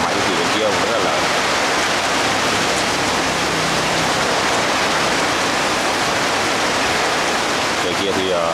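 Heavy outdoor rain pours steadily in a dense, unbroken hiss that holds at a constant loud level throughout, with no pauses or separate drops standing out.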